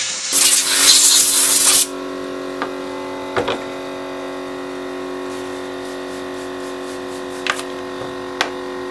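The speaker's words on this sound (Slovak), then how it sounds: "Potom so stlačeným vzduchom vyfúkame." A loud hissing blast of compressed air blows clean the parts of an Oleo Mac chainsaw for under two seconds. Then a steady mechanical hum fills the background, broken by a few faint clicks.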